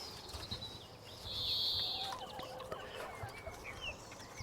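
A broody hen clucks inside a chicken coop beside another hen laying an egg, low grumbling clucks rising to one louder drawn-out squawk, with light wing flutters and rustling nearby, no talking.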